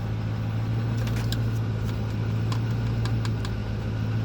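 A 2009 Ford F350 truck's engine running at idle, a steady close low rumble with faint rattles and light ticking over it.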